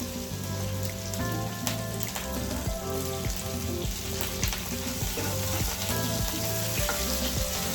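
Ginger and curry leaves fry in hot oil for upma, giving a dense, continuous crackling sizzle that stays loud and close from start to finish.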